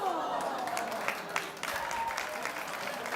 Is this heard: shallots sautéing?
no